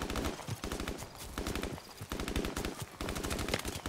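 Rapid automatic gunfire from Call of Duty 4: Modern Warfare rattles loudly in sustained bursts with short gaps, close and dense throughout.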